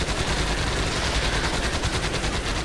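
Rapid automatic gunfire from the video game Elite Forces, a dense, continuous stream of loud shots firing in quick succession for a few seconds, close and unbroken.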